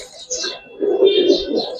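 Giribaz pigeons, a fresh pair, coo softly close by in a short series of low murmuring calls, swelling louder in the second half, with faint higher chirps above.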